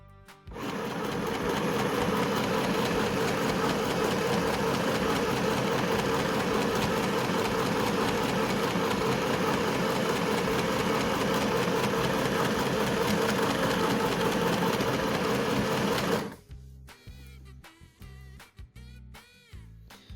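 A sewing machine stitches across the top of a small monkey's tee shirt, running steadily and loudly for about sixteen seconds before stopping, with a few faint clicks after.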